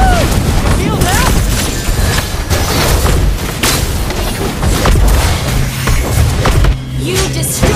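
A turret crumbling under attack in Mobile Legends, loud booming impacts and blasts layered over busy battle effects and game voice lines, rumbling steadily throughout.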